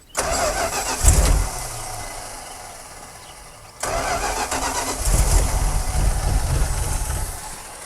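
An old Dodge Power Wagon engine, unused for 16 years, cranks and catches, revs up, dies back briefly, then restarts and settles into a steady rumbling run close by.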